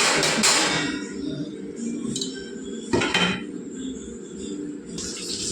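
A metal lid clanks onto a cooking pot while a bochchalu fish pulusu curry simmers. A bright clatter opens the clip, and another distinct clink follows a few seconds later amid soft kitchen noise.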